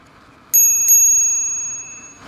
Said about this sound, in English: Bell is pretty dope too.